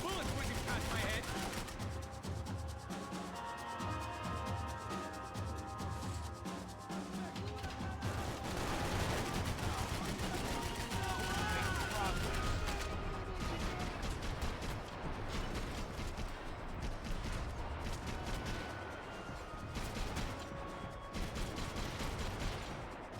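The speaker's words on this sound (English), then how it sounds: "I can't concentrate with bullets whizzing past my head." Dense gunfire and bullets whizzing by in the video game Max Payne 3, continuous rapid shots and impacts mixed with game music and voices talking throughout.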